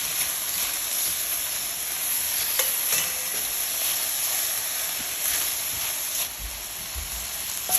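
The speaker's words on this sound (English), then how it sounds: "continue to stir fry it" Ostrich meat and asparagus stir-fried in a pan hiss with a continuous loud sizzle, with a few clinks of the utensil against the pan as they are tossed.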